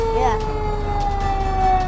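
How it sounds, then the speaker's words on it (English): A loud fire truck siren, triggered by a foot pedal, wails close by, its tone holding high and sliding slowly downward, with a faint voice underneath. "you have a foot pedal over here. And that's your siren."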